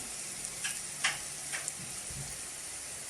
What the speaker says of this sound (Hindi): अब यहाँ पे मैं 1 अदद बड़े साइज़ का प्याज शामिल करूँगी जो मैंने चॉप किया हुआ है